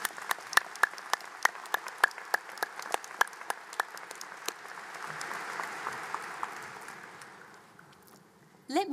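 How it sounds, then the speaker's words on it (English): Audience applause for special guests at a college commencement ceremony, sharp individual claps early then swelling into a broad, sustained wash of clapping that fades out, with a voice briefly at the end. "Please join me in applauding these special guests."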